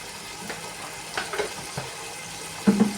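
Onions fry in a pan with a soft, steady sizzle, broken by a few light stirring scrapes and clinks, close and without talk.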